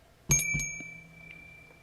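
A bell is struck once, giving a bright, sharp ding that rings on with a long, slowly fading tone in an otherwise quiet space.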